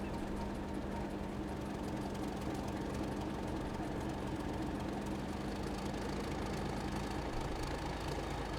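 A Class 31 diesel locomotive in Train Simulator runs with a steady, heavy engine drone and a constant low throb, holding an even level throughout with no talking.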